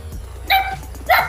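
Two short, sharp dog barks ring out close by, one after the other, in a rural area of banana and abaca plantings, with faint low background rumble.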